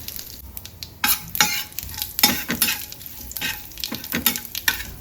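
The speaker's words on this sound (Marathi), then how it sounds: "आता मी कढीपत्ता घालते आणि कढीपत्ता पण तडतडू द्यायचा आहे" Curry leaves crackle and sizzle in hot oil during tempering for crispy coriander vadi, a steady close frying hiss with bursts of spitting pops and occasional stirring.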